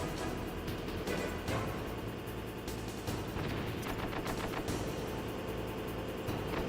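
A big gun fires repeatedly in Metal Gear Solid, a dense burst of heavy gunfire with sharp cracks and booms in quick succession, loud and sustained over rumbling in-game noise.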